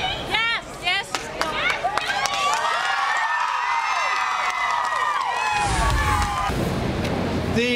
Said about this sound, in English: I want to take you to reaction just after the verdict was read of the crowd outside, as Courtney was just discussing.